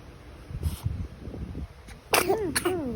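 A single sharp sneeze bursts out near the end, preceded by soft murmuring and a few quiet sounds.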